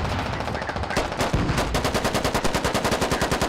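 Automatic gunfire rattles in the military shooter video game Squad: a short lull with a few scattered shots, then a steady, rapid burst of evenly spaced machine-gun rounds at moderate distance.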